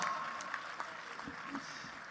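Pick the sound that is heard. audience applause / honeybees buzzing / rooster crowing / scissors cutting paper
audience applause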